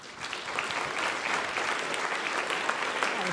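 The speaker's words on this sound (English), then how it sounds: "So please give him a big round of applause" Sustained audience applause at a world security forum panel on Ukraine, greeting the US Secretary of Defense; steady dense clapping fills the room throughout, moderately loud with no voices over it.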